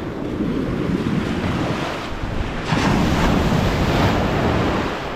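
Steady rush of surf washing onto the shore, with wind buffeting the microphone; a larger wave swells louder partway through.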